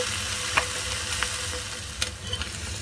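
Oyster omelette fried on its second side after flipping in hot oil, a steady soft sizzle with a few light scraping clicks, close and alone.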